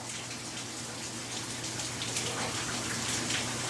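Steady rain falls outside, a constant soft hiss with scattered drops pattering on surfaces, heard at a moderate distance with no talking.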